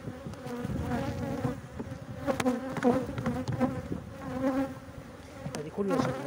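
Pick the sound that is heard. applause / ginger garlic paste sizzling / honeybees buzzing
honeybees buzzing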